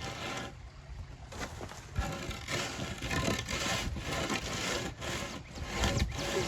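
Board and trowel smoothing wet concrete, repeated rough scraping strokes in an uneven rhythm, close and fairly loud, with no talk.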